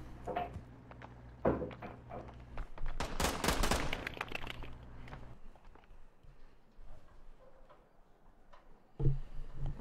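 Bursts of rapid automatic gunfire from a 30-round weapon in the video game Warzone, a dense loud volley in the middle, with scattered shots and footsteps-like clicks around it; no talk.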